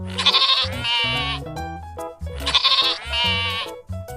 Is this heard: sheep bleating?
yes